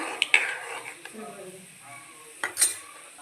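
Garlic drops into hot oil with cumin for a dal tadka, giving a soft crackling sizzle punctuated by a few metallic clinks of a spoon against the pan.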